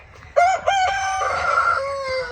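Rooster crowing close by among penned chickens on a small off-grid homestead in Australia, a loud harmonic crow breaking into several strong bursts over a faint farmyard background.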